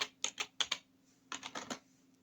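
Soft typing on a computer keyboard: two quick bursts of light clicking keystrokes separated by a short pause, close and quiet with no voice.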